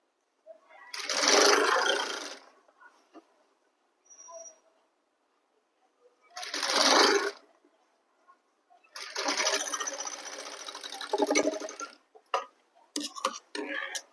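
A sewing machine stitches a suit in short, separated bursts of whirring, near and moderately loud, with faint ticks and clicks in the quiet gaps between runs.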